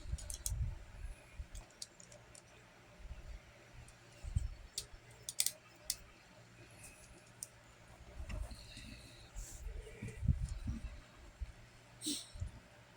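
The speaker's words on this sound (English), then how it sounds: "When I cut, I spin the leather around to all kind of directions." A blade cuts leather for a concealed-carry holster with quiet, intermittent snips, scrapes and clicks as the piece is turned, close but faint, with brief low rustles between cuts.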